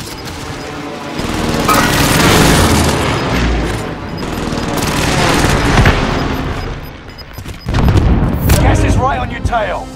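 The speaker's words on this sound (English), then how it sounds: "Allied precision airstrike incoming." Heavy airstrike explosions roll through a Call of Duty Warzone match, loud booming blasts swelling in waves with gunfire mixed in, then a sharper burst near the end, with voices over the action.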